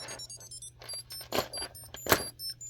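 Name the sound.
virtual pet device beeps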